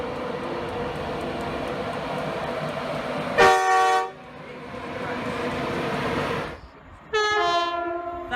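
A passing train's horn gives a loud, harmonic blast, falls quiet, then sounds again in a second rising blast. A steady rumble of rolling rail cars runs underneath throughout.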